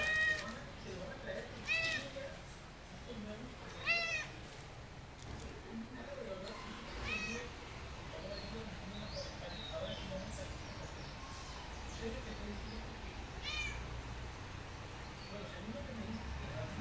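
A hungry pet cat meows repeatedly for food, several separate close calls spread out over the stretch, mixed with faint chirps and light background noise.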